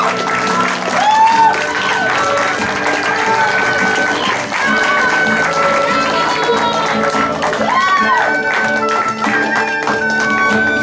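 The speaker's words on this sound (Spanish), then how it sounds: "fuerte los aplausos, qué emotiva canción." An audience at a quinceañera celebration applauds after a song, with dense sustained clapping and some crowd noise mixed with background music throughout.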